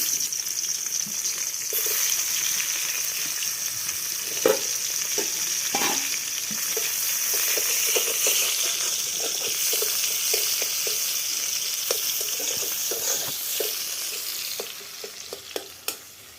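Onions fry and are stirred in a pan for a fish curry. A steady close sizzle runs throughout, broken by frequent sharp scrapes and clicks of the spoon.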